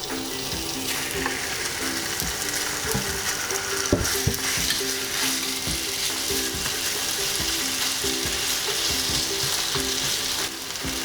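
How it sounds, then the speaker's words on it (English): Flour-dusted chicken pieces frying in hot vegetable oil in a frying pan, a loud steady sizzle and crackle with occasional sharp clinks and scrapes of a utensil, continuous with no voices. "Heat up some vegetable oil in the frying pan and let's cook the chicken."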